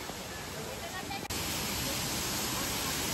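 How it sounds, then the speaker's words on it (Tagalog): The Garganta de Los Nogales waterfall in Navaconcejo, Valle del Jerte, Spain, gives off a steady, loud broadband rush of falling water, unbroken except for a brief dip partway through. "naririnig na namin yung lagaslas ng falls"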